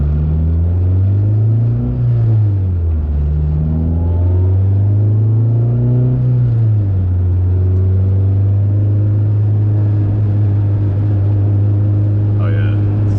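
An Acura Integra fitted with new motor mounts drives at night, its engine a steady, loud low drone that rises and falls with the throttle early on and then settles into an even cruise.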